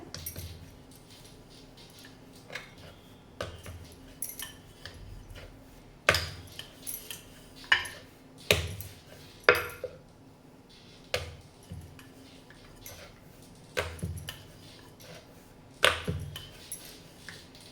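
A knife cuts rolled cheese butter shankarpali dough with repeated irregular taps and clicks against a board, close and moderately loud over quiet background.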